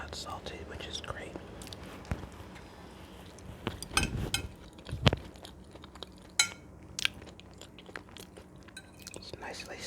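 Someone eating homemade baked chicken seasoned with rosemary and curry, close quiet chewing and bites with scattered crunchy clicks and utensil taps, under soft whispering.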